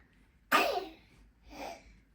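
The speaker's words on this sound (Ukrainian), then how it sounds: "Ой, Марчик, будь здоровий" A cat sneezes once sharply and close, followed about a second later by a softer, shorter snort or second sneeze, both alone in a quiet room.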